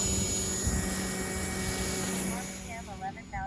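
A small aircraft takes off and climbs, a steady near engine drone that softens toward the end while a brief warbling tone enters and a voice speaks briefly.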